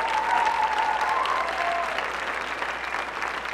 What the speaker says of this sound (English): Let's have a round of applause for Esquire and the Varsity Singers under the direction of Mr.